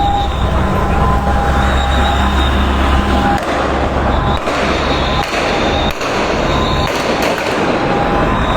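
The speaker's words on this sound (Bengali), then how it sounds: "গুলি চালাচ্ছে আর্মিরা" Scattered sharp gunshots from army troops during a robbery crack out at irregular intervals under a loud, constant roar of noise, with voices faintly present in the background.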